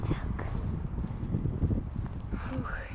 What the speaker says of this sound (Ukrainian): І вітер такий сильний.